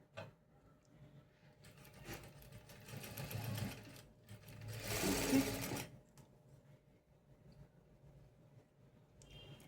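A sewing machine top-stitches a pocket onto fabric, running in close, steady bursts that swell loudest near the middle before fading to quiet handling at the end.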